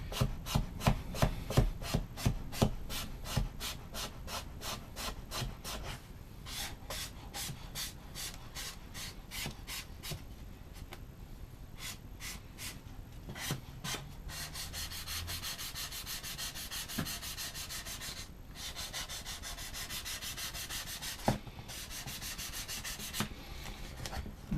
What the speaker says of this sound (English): you can actually sandpaper it